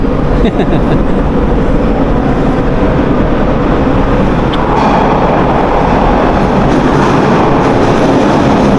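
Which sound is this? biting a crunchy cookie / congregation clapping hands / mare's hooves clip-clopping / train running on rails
train running on rails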